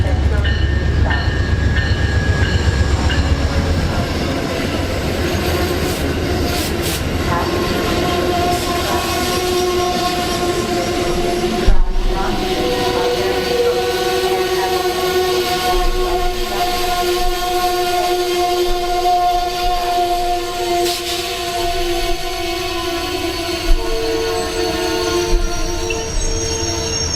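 An Amtrak Northeast Regional passenger train bound for Boston South Station rolls loudly past at close range, with rumbling wheels, sustained high squeals from the wheels and a long, tonal blast of the horn.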